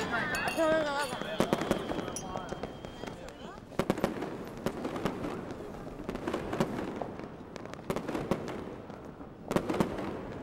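Fireworks go off outside a house courtyard, with sharp bangs and crackling bursts scattered through the clip. Voices talk over the early part, and later pops ring out more distinctly at moderate distance.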